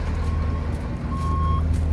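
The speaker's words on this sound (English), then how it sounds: "Backup alarm is a little quiet." A school bus's thin, steady, somewhat quiet electronic backup beeper sounds at a moderate distance over a loud, low idling engine rumble.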